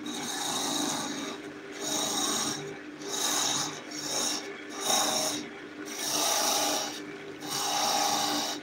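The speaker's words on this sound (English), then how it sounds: "I've got a wee knot inside this one, so it's a little bit jumpy on the edge of the skew." A skew chisel cuts across knotted wood on a lathe, making rhythmic rasping scrapes that rise and fall in repeated passes about a second apart, close and fairly loud.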